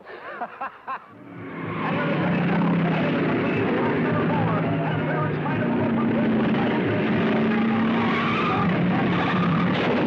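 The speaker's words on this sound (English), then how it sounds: "I'm sorry you spun out, Billy" Race cars roaring past in a 1949 oval-track race setting, a dense sustained engine and tire noise after a brief opening of short bursts, with a faint voice mixed in.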